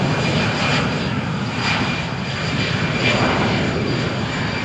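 An EasyJet airliner's jet engines during its takeoff roll at Malaga on a stormy morning, a loud, dense, unbroken roar filling the whole stretch with no voices.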